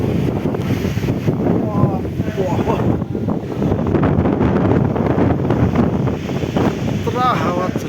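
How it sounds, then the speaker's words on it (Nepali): Strong wind buffets the microphone outdoors in a millet field, a constant rushing roar that swells and eases, with several people talking loosely underneath. "पुरा हावा चलिरहेछ"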